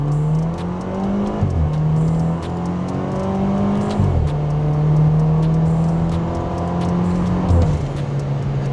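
A modified BMW 316i F30 turbo accelerating hard through several gears, the engine note climbing and then dropping at each of about three upshifts, loud and close from inside the car with no talking.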